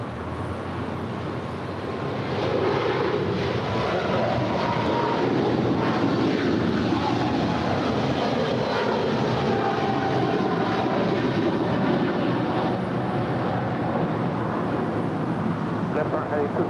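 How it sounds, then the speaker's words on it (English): A DHL Boeing 777 freighter rolls for takeoff at LAX, its engine roar swelling after the first couple of seconds into a steady, loud, broadband rumble that holds to the end, with a voice talking over it. "We have a DHL 777 now rolling."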